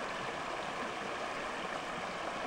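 Small river rapids on the Petawawa in Algonquin Park rush steadily, a close, continuous broadband hiss and gurgle of flowing water with no voices.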